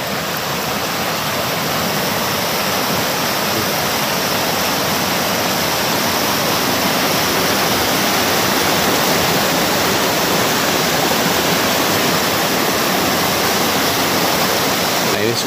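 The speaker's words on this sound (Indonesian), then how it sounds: "Nah ini Sungai Cibangkong baraya." The Cibangkong river in a disaster-prone rural area rushes as a dense, continuous roar of flowing water, loud and unbroken throughout with no pauses.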